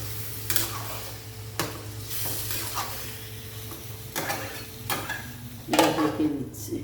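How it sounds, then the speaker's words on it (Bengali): Chana masala with a little sugar is stirred in a pan over a faint, quiet sizzle, with several distinct scrapes and clinks of the spoon against the pan. "এবার অল্প চিনি দিয়ে দিচ্ছি, দিয়ে নাড়িয়ে দিয়ে"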